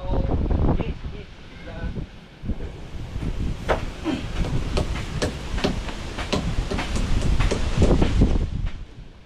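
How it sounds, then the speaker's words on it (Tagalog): Wind buffets and rumbles across the microphone in gusts at a house under construction, with bursts of crackly noise and people talking intermittently. "Medyo mahangin eh."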